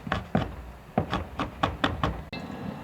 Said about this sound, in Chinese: 这是酸豆角，自己家做的，给它切碎，切。